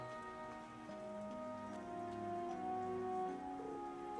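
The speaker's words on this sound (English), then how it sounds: "Oh no! I didn't think it was raining this hard." Steady heavy rainfall in the video game The Legend of Heroes: Trails of Cold Steel III, pattering continuously beneath a gentle melodic music track, with no one speaking.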